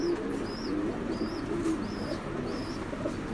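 Pigeons cooing at a breeder's loft, a series of soft repeated coos roughly every half second over low background noise, no talking.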